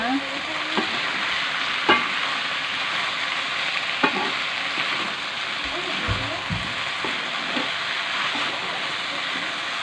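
Fried noodles with shrimp and green beans are stirred in a sizzling pan, a dense continuous frying hiss broken by occasional sharp scrapes and clinks of the utensil, close and steady, with a voice faintly present underneath.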